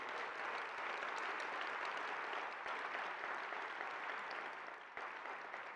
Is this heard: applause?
yes